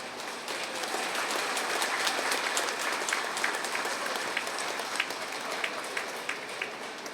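An audience applauds at an ALP Astrology book launch. Many hands clap in a steady, full wash that lasts about seven seconds, with sharper individual claps standing out near the end.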